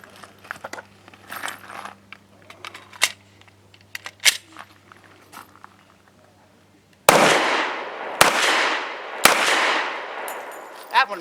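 Three loud pistol shots from an S&W M&P 2.0 Compact .45 firing Sig Sauer Elite Performance 185 grain ammunition, spaced about a second apart with ringing decay, after a stretch of quieter handling clicks and low hum.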